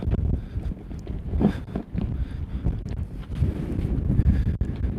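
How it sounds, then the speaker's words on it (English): Wind buffets a microphone with rough, low rumbling gusts throughout, loud and close, with no voices. "It's a bit windy here today."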